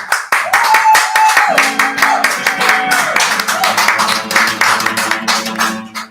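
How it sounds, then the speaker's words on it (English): Audience applause and clapping for a guest at a tavern livestream show, steady and loud throughout with dense hand claps, a musical tone and background voices mixed underneath. "Big round of applause for Alan Freedman"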